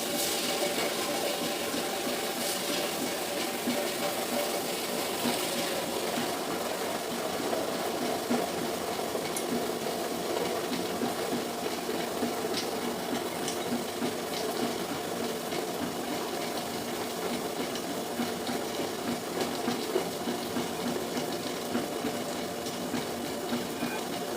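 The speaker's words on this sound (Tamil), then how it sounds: "இப்போ நம்ம கிரைண்டரில் இதை போடுவோம்." A wet grinder churns batter for ulundhu kali, a steady wet whirring and sloshing drone that runs unbroken and fairly loud for the whole stretch, with no talk over it.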